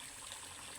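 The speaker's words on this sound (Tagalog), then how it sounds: "Kasi walang tigil yung agos ng tubig, tapos diretso lang, running water ba." Water flows without stopping on a farm where a tilapia fish pond is being built, a faint, steady rushing hiss continuing throughout a very short stretch.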